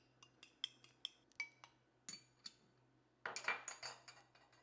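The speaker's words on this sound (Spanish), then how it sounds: "La vamos a batir con un tenedor." A fork beats egg yolk with a spoonful of milk in a bowl for a guava pie glaze, giving light, quick metallic clinks and taps, sparse at first, then a denser burst of rapid strokes, close and quiet.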